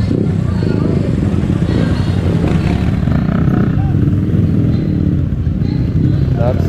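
Big bike motorcycles idle and rumble loudly nearby at a charity ride gathering, a constant dense engine drone with crowd chatter and voices talking over it.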